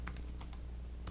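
Several quick, faint key taps on a computer keyboard while entering a math answer, sitting over a steady low room hum.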